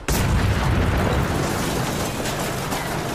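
Kaboom Stick weapon firing in Fallout 4, a single loud, powerful blast at the very start that rumbles on as a dense, roaring wash of noise with no talking.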